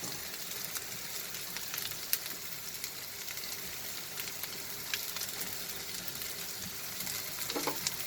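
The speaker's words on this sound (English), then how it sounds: "And I will fry these onions and the red chili till our onion becomes nice and brown." Onions and dried red chilies frying in a pan for aloo bharta, a steady close sizzle with light crackles and a few stirring scrapes, no one speaking.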